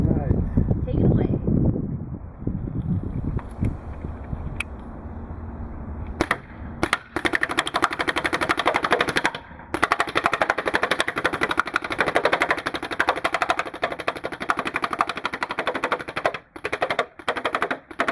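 Planet Eclipse Ego 11 paintball marker, fed by a Rotor loader and a Gorilla air tank, fires long rapid strings of sharp, close, fast-repeating cracks that run almost without pause after a short stretch of voices and lone shots at the start.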